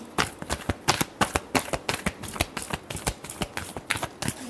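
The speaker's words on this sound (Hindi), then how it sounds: "Last shuffle." Tarot cards being shuffled during a Libra reading, a rapid run of crisp riffling flutters and soft slaps repeating steadily, close and clear with no talk.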